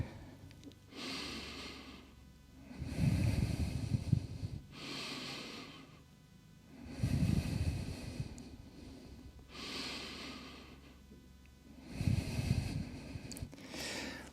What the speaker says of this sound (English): Taking slow breaths in and out here.